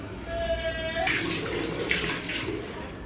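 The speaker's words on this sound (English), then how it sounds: "I'm going to quickly do a face wash." Water runs from a tap into a sink during a face wash, a steady splashing rush throughout, with a brief tonal squeak near the start and scattered louder splashes.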